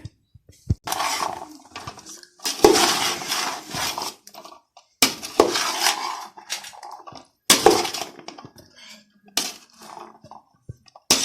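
Chickpea chaat with cucumber and green chilli being mixed in a bowl, heard as bursts of clinking, scraping utensil-on-bowl sounds separated by short pauses, close and fairly clear with no talking.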